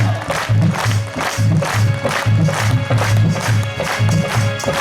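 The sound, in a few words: crowd clapping rhythmically in a pavilion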